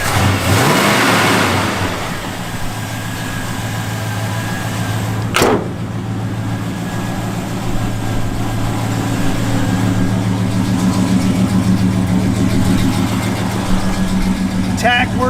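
Engine of a 1969 Chevrolet Chevelle SS revving up from idle, a loud rumbling mid-range roar that rises and settles, with a door sound and people talking nearby.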